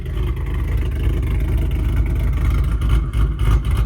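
A 2024 Ford Mustang Dark Horse V8 with a ghost cam tune rumbles loudly and continuously with a deep, lumpy idle and rising revs, close to the listener.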